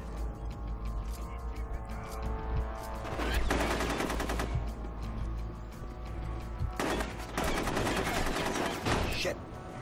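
Silenced pistol fire in the Rogue Warrior video game: rapid volleys of sharp shots come in two dense bursts over a low steady hum, with quieter gaps between them and a voice faintly audible.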